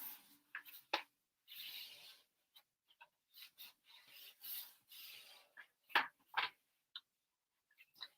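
Folded paper pressed flat along an album hinge with a burnishing tool in a craft project, giving short dry rubbing and scraping strokes in uneven bursts with small taps between, close and fairly quiet.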